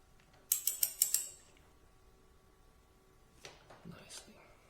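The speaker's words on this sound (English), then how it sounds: "First up is to loosen the front brake caliper" Tools loosening the front brake caliper screws on a Ducati Multistrada 1260S: a quick burst of four or five sharp metallic clicks, a quiet pause, then a softer run of clicks with handling noise.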